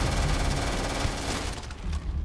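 Heavy sustained gunfire in the Starfield video game, dense overlapping shots during a fight against a horde of creatures on Dione, loud and continuous before easing off near the end.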